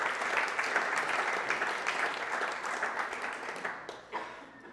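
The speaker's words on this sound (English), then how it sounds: "Give a round of applause, okay?" An audience at a team gathering gives a round of applause, dense steady clapping from many hands that tapers off over several seconds.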